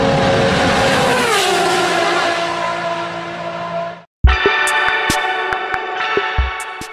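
Tata Altroz iTurbo hatchback driving with a steady engine drone and whooshing road noise for several seconds, then a sudden cut to a brighter, tonal engine sound with sharp clicks.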